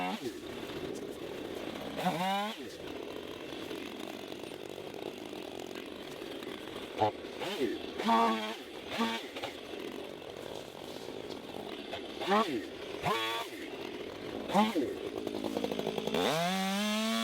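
A chainsaw trims branches from a felled tree while harvesting saw logs, its engine droning steadily with repeated revving surges as it bites through wood, loud and close, with a voice talking over it at times.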